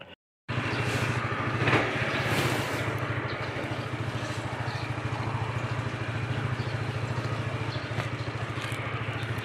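A WMOTO RT3 motorcycle with a large body and DNA Delin engine fires up after a brief silence, revs slightly, then settles into a steady, close, rhythmic idle with a low throbbing pulse and light mechanical clatter.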